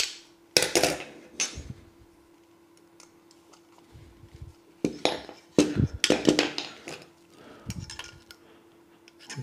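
A Parkside adjustable hole saw being adjusted by hand: close, irregular metallic clicks, clatters and scraping as parts are loosened and set, with quiet gaps and a faint steady hum between bursts.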